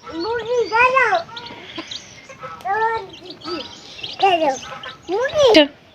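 Chickens cluck and call in short rising bursts, close and fairly loud, with a few separate calls spread across the clip, near their nest on a winter morning in a village.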